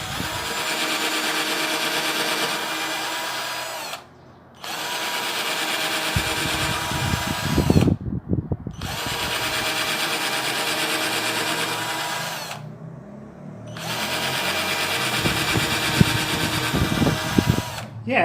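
A Lomvum 12V cordless drill spins up with a small bit in three long, steady runs, separated by brief pauses, with uneven low-frequency grinding as the bit bites into the workpiece, loud and close.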